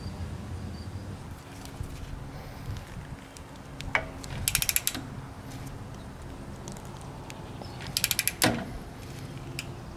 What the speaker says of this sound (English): use a 3/4 inch wrench and tighten to 75 foot-pounds